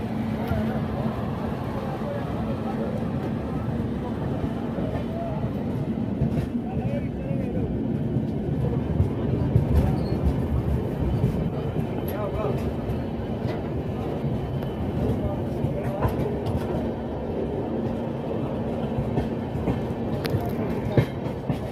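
Steady rumble and rattle of a moving train's carriage, heard from inside on a Rajkot to Delhi Sarai Rohilla journey, continuous and moderately loud with faint clicking throughout.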